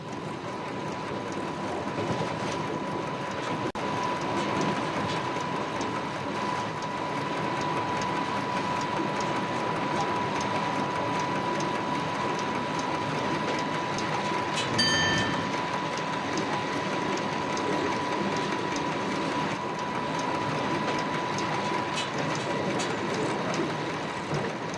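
Cab ride aboard a CC7100 electric locomotive near Aix-les-Bains: a steady, loud running rumble with a constant hum and wheel clatter throughout, and a brief sharp click or squeal midway, without talk.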